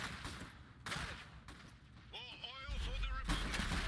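Rifleman gunfire in the Iron Harvest strategy game: several sharp shots and blasts, with a burst of rising whistling tones in the middle, all under continuous commentary talk over a rumbling battle backdrop.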